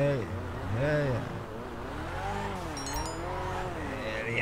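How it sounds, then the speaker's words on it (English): A car spins donuts in Grand Theft Auto V, its engine pitch rising and falling in repeated sweeping waves, with a brief high tire squeal midway, loud and close throughout. "we can do some donuts"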